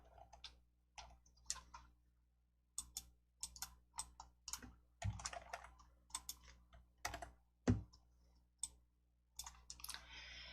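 Keys clatter on a computer keyboard in short irregular bursts of clicks with brief pauses, close and fairly quiet, while a PowerPoint practice text box gets filled in, no voices.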